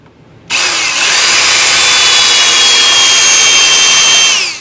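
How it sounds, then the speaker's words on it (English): A hand drill spins up abruptly and whines loudly and steadily while roll crimping a 16 gauge shotshell, a close high-pitched grinding hum that holds for several seconds before easing off. "to roll crimp this, I'm just using a hand drill"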